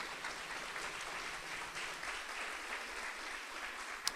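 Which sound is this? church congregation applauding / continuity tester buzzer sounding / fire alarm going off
church congregation applauding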